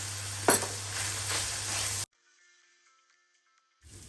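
Minced onion and crushed garlic frying in a pan, a steady bright hiss with a stir clatter, cutting off abruptly into near silence before the sizzle faintly returns.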